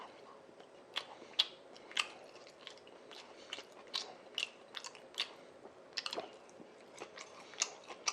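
Someone chews and eats an assorted plate of Korean jeon pancakes close to the mic, with soft crunchy, wet bites repeating at an irregular pace in a quiet room.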